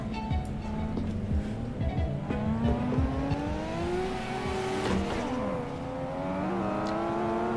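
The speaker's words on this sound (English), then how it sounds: "These are drift cars that we're taking on the highway" Drift cars in the Assetto Corsa racing game, driven on a highway, with engines revving and changing pitch continuously and tires squealing in long, loud bursts throughout.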